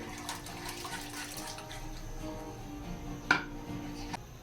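Rice is stirred into two litres of hot milk in a kadai, giving soft liquid sloshing and swishing with one sharp clink of a utensil against the pan, close and without talking.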